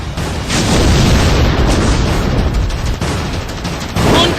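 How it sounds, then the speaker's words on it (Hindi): Heavy booming bomb explosions in a valley in Kashmir, a loud rolling roar with several bursts and rumbling tails, close and dense, with no talk. "बमों के धमाकों से थर्राती है वादियां।"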